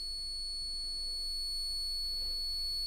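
A steady, high-pitched electronic beep from a multimeter continuity test holds unbroken for the whole stretch, clear and constant with only a faint hum behind it.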